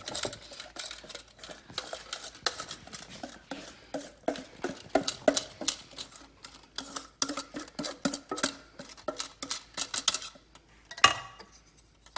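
Utensils scrape and clink steadily against a hot pan while spaghetti carbonara is mixed, a busy, irregular run of metallic taps and stirring scrapes, close and fairly loud throughout.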